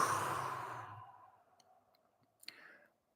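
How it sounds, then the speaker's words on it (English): A single long breath pushed out through pursed lips during a stretching exercise, a loud airy hiss that fades over about a second into quiet, followed by a faint click. "Exhale."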